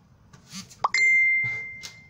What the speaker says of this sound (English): Professional YouTuber getting all sorts of notifications.